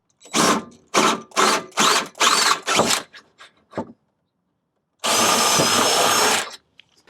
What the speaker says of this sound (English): let's drill our first hole here